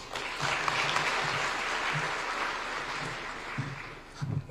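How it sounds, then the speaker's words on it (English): Audience applause at an international nuclear energy conference in Nairobi, a sustained wash of many hands clapping, fairly distant, tapering near the end as a few voices murmur underneath. "give Commissioner Magwood another round of applause"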